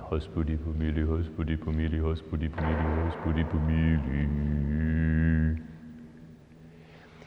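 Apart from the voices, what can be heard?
chanting in a chapel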